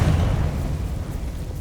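A Confringo blasting spell explodes in Hogwarts Legacy with a loud, close, low boom that rolls off into a rumbling decay over under two seconds.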